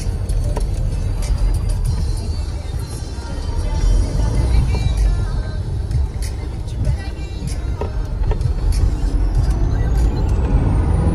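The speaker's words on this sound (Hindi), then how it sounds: "बहुत ट्रैफिक हो चुकी है यहाँ पे स्कूल छूटने की वजह से।" Dense road traffic at school closing time, with buses and cars crowding past and air brakes hissing now and then, a steady loud engine rumble throughout.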